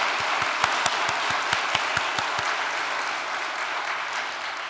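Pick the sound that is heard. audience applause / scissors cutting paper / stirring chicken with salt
audience applause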